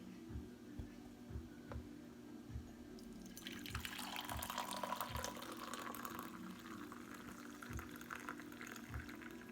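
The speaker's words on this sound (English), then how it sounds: "Okay, I'm gonna pour my tea." Tea brewed with rosemary, rose and goji berries is poured into a cup, a soft, steady liquid trickle rising in the middle of a quiet room with faint background clicks, no talking.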